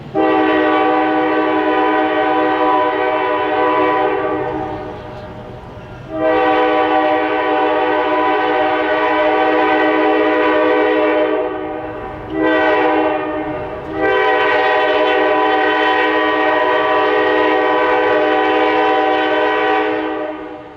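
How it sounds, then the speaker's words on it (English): Two locomotives of the Jackson & Lansing Railroad rumble past on an S-curve near Mason, Michigan, the train horn blaring in long, loud blasts with brief gaps, heard from a distance. "As the train approaches Mason, we watch from a distance as the two locomotives are seen crossing the S-curve"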